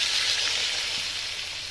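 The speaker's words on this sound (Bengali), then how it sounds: "তেলে কষিয়ে নিলাম আর কি, পেঁয়াজ লঙ্কার ভিতরে করে কষিয়ে নিলাম" Potatoes sautéing in oil with onions and green chillies give a steady, close broadband sizzle and hiss that holds level throughout, with no voices over it.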